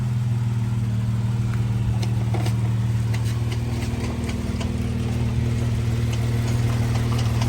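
A Jeep 3.6 engine idles steadily just after an oil change, a close, even mechanical hum with a faint ticking rhythm running unbroken throughout.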